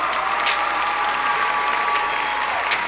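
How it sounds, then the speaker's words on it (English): Dense applause-style clapping sound effect dropped into a podcast, a steady wash of many hands clapping at close range with no talk over it. "Shy, we about to switch them claps up too, cause everybody got them fucking claps"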